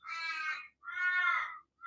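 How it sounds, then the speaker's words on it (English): Two long, drawn-out nasal caws from an Australian crow, close by, with a third call just starting, no other sounds around them. "Don't you love the crows in Australia?"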